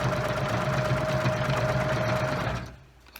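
A sewing machine stitches fabric in a fast steady whirring run with a constant hum, close and loud, then stops abruptly near the end into quiet room tone.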